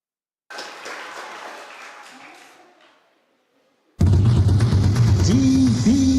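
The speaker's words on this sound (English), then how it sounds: "Let's give her a round of applause." Brief audience applause for a child reader at a national reading competition, fading out after a few seconds, followed by a sudden switch to a loud broadcast segment with speech and music.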